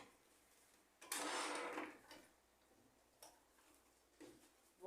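A sewing machine runs a short burst of stitching to tack a fabric tab on a child's seat belt cushion, followed by a few faint clicks and handling sounds, with no talk.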